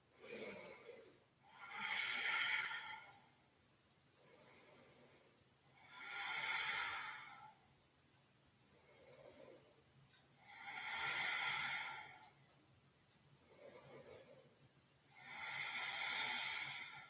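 Slow deep breaths during a yoga prayer squat, each long inhale and exhale rising and falling in a steady rhythm, close and soft with no talk.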